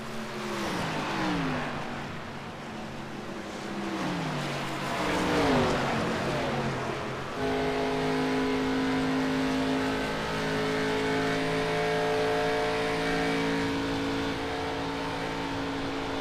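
Race cars at full throttle in the MRL Cup Series at Indianapolis, a racing game: loud, continuous engine roar with pitch sweeping up and down through gear changes, then settling into a sustained high drone.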